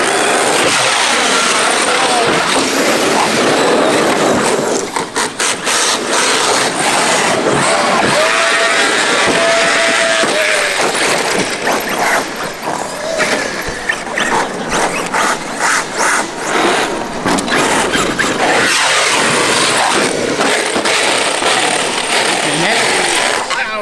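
An Arrma Mojave RC car's motor whines and strains under throttle during a bash session, loud and close with rough revving bursts, while someone talks over it.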